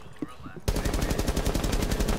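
In Rainbow Six Siege, an automatic weapon fires through a wall: a loud, rapid, unbroken burst of shots begins abruptly after a brief moment of quiet voice and background noise.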